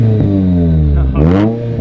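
A Mazda Miata engine revs up close and loud, its steady harmonic drone climbing and swelling into a sharp burst near the end before settling back.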